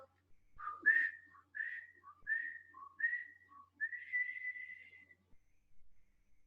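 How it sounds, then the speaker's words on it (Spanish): A person whistles a short melodic phrase of about seven clear notes, the last one held, close and alone in a quiet setting. "un silbido"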